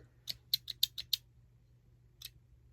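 Small nail scissors snip in a quick run of six crisp, close clicks, then a single final snip after a pause, in a quiet room.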